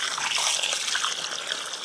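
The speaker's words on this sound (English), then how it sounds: "So I'll just give it a water, give it a good thorough water all the way down." Watering can pouring a steady stream of water onto allotment soil while planting a kiwi, a continuous close trickling splash with no talk.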